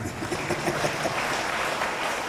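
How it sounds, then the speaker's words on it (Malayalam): An audience at a retreat applauds as a nun comes forward, a dense, even wash of many hands clapping that holds steady throughout, moderately loud with a slight roomy echo. "നമുക്കൊരു കൈയടി ഇപ്പോഴേ കൊടുക്കാം"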